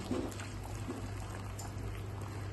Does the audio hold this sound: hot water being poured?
yes